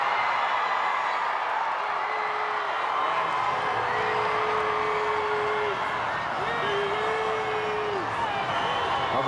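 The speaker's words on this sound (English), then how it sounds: "Cheer in the background" A stadium crowd at a women's rugby league match cheers steadily as a team takes the field, a broad, distant roar with whistles and whoops rising over it, under light commentary.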